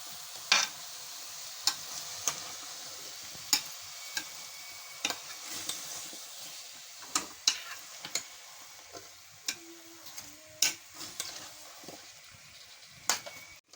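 Potato and cauliflower pieces being stirred with spices in a pan, giving a quiet sizzle with a series of sharp spoon scrapes and knocks at irregular intervals, fairly close and alone.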